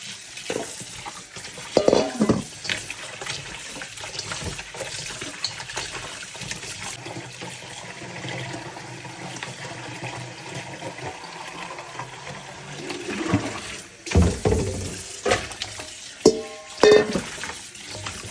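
Raw duck meat being washed in water by hand, with sloshing, stirring and splashing throughout and a few louder splashes and clatters near the end, close by with no talk.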